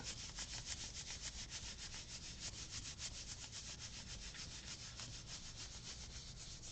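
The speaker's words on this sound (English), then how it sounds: "So I'm just kind of lining it up and we're going to rub it." Steady rhythmic rubbing of paper laid over a gel print for a mixed media junk journal project, close and even with quick repeated strokes, alone without talk.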